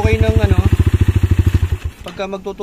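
A 200cc motorcycle engine fitted with a Honda 155 carburetor runs during fuel screw tuning, loud and close with a steady pulsing idle that briefly falters before picking up again, while someone talks over it.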